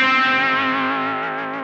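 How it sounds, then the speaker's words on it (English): An electric guitar on the bridge pickup plays sustained double stops through a Dr No Octavia fuzz pedal with both controls full up, giving a buzzy, synthetic, octave-doubled tone that rings and slowly fades. "So you get that almost robotic kind of sound on those double stops"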